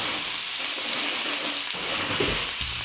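Tomatoes and capsicum sauté in a hot pan for a mixed vegetable masala curry, giving a steady close sizzle with stirring scrapes and a clatter near the end, no voices.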